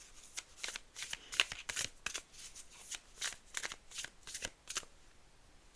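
Tarot cards are shuffled by hand in a quiet room, a run of quick papery riffles and soft slaps repeating in short bursts, close and fairly faint, with no talking.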